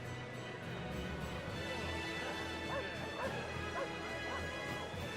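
Dog barks and yips from the Tales of Berseria video game come in short bursts over a steady game soundtrack and ambient hum, fairly faint.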